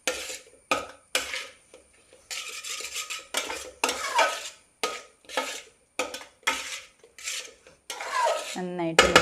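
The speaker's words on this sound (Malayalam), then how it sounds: "ഇനി നന്നായിട്ടൊന്ന് മിക്സ് ചെയ്യാണ്." Chicken noodles being mixed with sauce in a pan, with repeated scraping and clinking of a utensil against metal in short bursts and faint sizzling between strokes.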